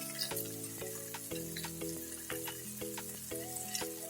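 Tomato masala with salt frying in a pan for a katla fish curry, a soft sizzle with a few quick stirring taps over faint background music, quiet and close, no voices.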